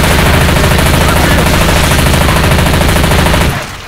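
Dense, continuous rapid gunfire from a S.T.A.L.K.E.R. 2 firefight, loud and close, with shots fired in quick succession for several seconds before cutting off abruptly.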